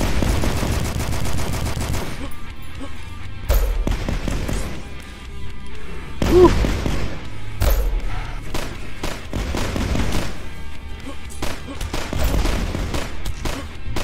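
Gunfire in the retro shooter DUSK, with heavy blasts arriving in irregular bursts. Loud booming shots stand over a busy background of game noise and music.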